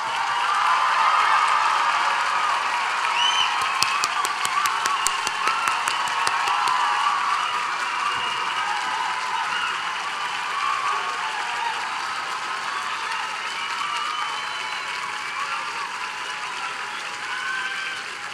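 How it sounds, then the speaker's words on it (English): Sustained applause from a graduation ceremony audience honoring the faculty at Bennington College's commencement, a steady wash of many hands clapping that holds evenly loud throughout, a few sharper claps standing out early on. "so the class of 2026, their guests, and I can applaud you."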